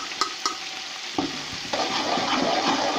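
Ginger garlic paste frying with cloves, bay leaf, black cardamom and cinnamon in a pot for beef yakhni pulao, a steady loud sizzle with a few sharp spoon clinks and stirring scrapes.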